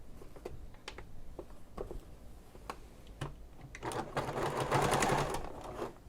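A sewing machine top-stitching a messenger bag, short stop-start runs of needle clatter followed by a longer, louder continuous burst of stitching, close and clear.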